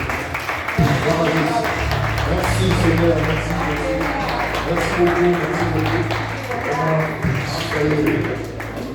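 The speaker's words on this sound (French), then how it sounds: "Est-ce que nous pouvons applaudir?" A church congregation applauds after a prayer, steady claps and tapping spreading across the room while someone speaks over them and music plays underneath.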